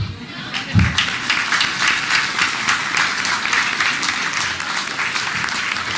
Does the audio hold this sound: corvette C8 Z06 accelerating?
no